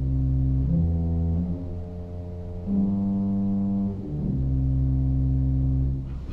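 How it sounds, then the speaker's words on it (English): Deep, sustained bass tones from the 16-foot contrabass pedal stop of a 1963 Austin pipe organ in a church, a series of long held low notes changing pitch every couple of seconds, with a soft attack and a full, rumbling body. "let's hear the 16-foot contrabass now. So that's a softer stop in the pedal."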